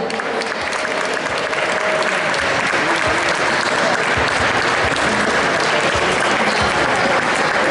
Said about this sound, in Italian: Facciamo un applauso a Laura